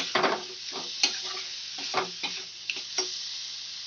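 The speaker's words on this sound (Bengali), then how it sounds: "মশলার সঙ্গে ভালো করে মিশিয়ে নেব।" Potatoes and black chickpeas are stirred with spices in a frying pan over a raised gas flame: a soft sizzle under a run of sharp spatula scrapes and taps, about eight distinct strokes, close and fairly quiet.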